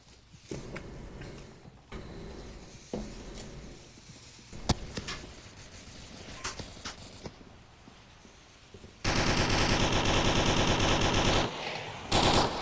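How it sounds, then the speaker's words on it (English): Automatic weapon fire in the VR shooter Onward during a competitive match, with scattered bursts and single shots in the first half, then a sustained loud, dense stretch of rapid gunfire lasting several seconds near the end. "Some pre-firing coming out from the side of Sinister Pride's defense."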